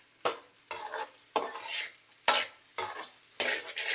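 Egg is stirred and fried in a pan for egg fried rice, with repeated close scraping strokes of a spatula over a continuous sizzle, in an uneven rhythm.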